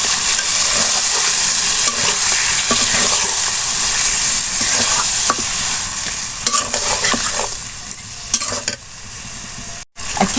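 Sour yogurt being stirred into sizzling chicken biryani in a pot, a loud, continuous frying hiss broken by repeated scraping strokes of a spoon, with a brief cutout near the end.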